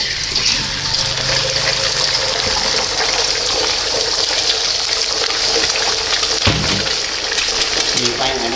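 Four beaten eggs poured into a hot frying pan while making stir-fried preserved radish with egg: a steady, fairly loud hiss and sizzle running throughout, with a brief thump near the end and a voice talking over it.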